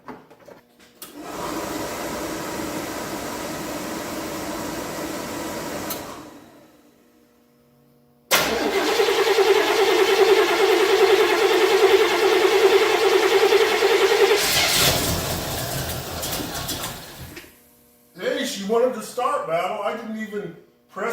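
Oldsmobile 455 V8 engine running at a steady, loud drone through two long stretches separated by a short pause, with a voice talking briefly at the end.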